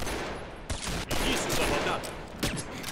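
Gunfire bursts in the online shooter Combat Arms during a match with the MSR Aether sniper rifle, dense overlapping shots and impacts in a loud, continuous game mix.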